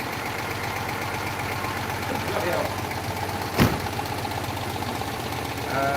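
A Citroen 2CV flat-twin engine runs steadily on a dyno, a continuous mid-pitched idle with a brief sharp knock partway through, while people talk over it nearby.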